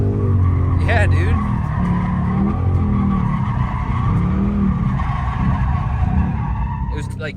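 A drift car slides around the track at Utah Motorsports Campus, its tires skidding and squealing loudly over a steady, strained engine roar, with voices talking over the noise.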